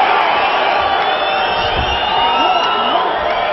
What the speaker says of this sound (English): The crowd really starting to get into this fight as well